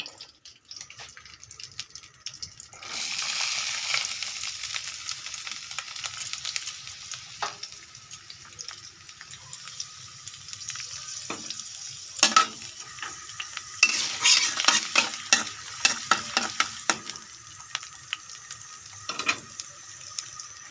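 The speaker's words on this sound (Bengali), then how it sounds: "আমরা কড়াইতে কিছু আলু ভেজে নেব।" Potatoes frying in oil in a kadai, a steady close sizzle broken by repeated scraping stirs and clinks of the utensil against the metal pan, with no talking.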